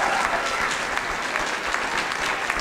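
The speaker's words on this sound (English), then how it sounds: "Let's have another round of applause for your children." An audience applauds children after a school Mighty Minds event, a steady, dense wash of many hands clapping at moderate loudness throughout, with no voices standing out.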